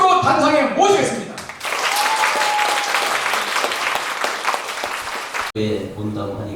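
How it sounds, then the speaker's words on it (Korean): A full hall bursts into loud, sustained applause welcoming a vice-president to the stage at a Korean foundation event. The clapping runs for about four seconds between a man's spoken introduction and further talk. "힘찬 환영의 박수로 단상에 모시겠습니다."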